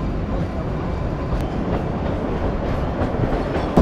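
Shivalik Deluxe toy train pulling out of Barog station on the Kalka–Shimla line, a steady, close rumble and rolling rail clatter that continues throughout with no talking.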